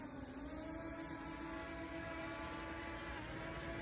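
A camera drone lifting off, its steady motor whine and rotor hum holding level throughout, close and continuous with no one talking.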